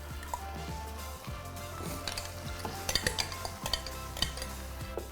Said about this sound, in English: Just give it a good mix.